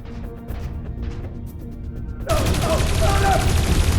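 Gunfire in the video game Dreamfall Chapters, with a quiet stretch of faint ambient sound and soft thumps, then an abrupt loud burst of shots and crashing noise that continues to the end.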